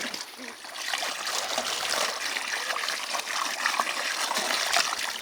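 Water pours steadily into a pigeon bath, a continuous splashing trickle and gurgle, fairly close and moderately loud with no clear talking.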